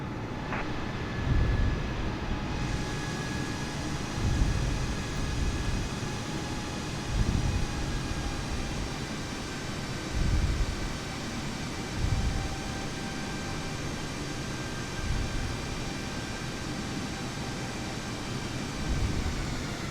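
Airliner taking off nearby in Microsoft Flight Simulator, a steady broad roar of jet engines with faint pulsing swells, continuous and fairly loud throughout.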